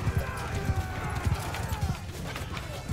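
Cavalry horses charging in the strategy game Kingdom Maker, a rapid rhythmic clatter of hooves with a faint whinny, steady and close, with a voice talking over it.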